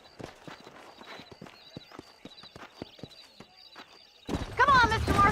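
Horse hooves clip-clop at a steady walking rhythm in the Red Dead Redemption video game, moderately close, before a horse neighs loudly alongside a burst of louder speech near the end.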